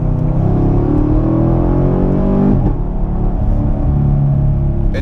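A car running with its catalytic converters removed gives a deep, baritone exhaust rumble, loud and close, with a brief dip in pitch midway before settling back to a steady drone.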